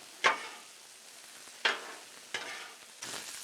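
Hamburger meat and vegetables fry on a griddle for a cheesesteak, with sharp scrape-and-stir bursts at irregular intervals over a low, steady sizzle.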